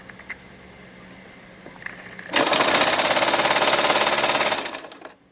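A sewing machine stitches fabric for a strapless twisted dress, running in one loud, steady mechanical burst of rapid needle chatter for about two seconds after some quiet handling noises, with no talking.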